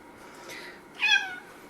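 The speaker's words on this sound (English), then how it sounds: "That was the cat" House cat in a craft room lets out one short, fairly close meow after a fainter earlier mew, in a quiet room with no talking.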